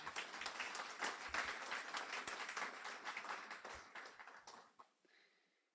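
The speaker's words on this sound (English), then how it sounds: "A warm round of applause for Alan and Jean" Warm applause from an audience at a guide dog graduation ceremony, dense clapping that holds steady for several seconds, then thins and fades out near the end.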